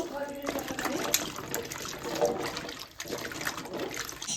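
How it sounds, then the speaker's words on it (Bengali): Jujube fruits washed in water make a steady, close splashing and trickling, like running tap water over fruit, continuous and moderately loud, with a voice faintly present. "কুলগুলো এবার আমি ভালো করে ধুয়ে নেব"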